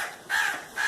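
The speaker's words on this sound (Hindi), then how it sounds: "कितने कौवे आ गए मेरे पास।" Crows caw close by, two harsh drawn-out calls in quick succession, fairly clear with no talking.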